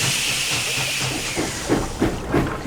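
Small steam railway engine hissing as floodwater sloshes into its firebox and ashpan, a loud continuous hiss with a few soft rhythmic chuffs toward the end, no talking.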